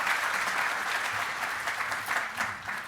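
Audience at an evening book discussion breaks into steady applause, a dense wash of many hands clapping at fairly even loudness throughout, with no talking over it.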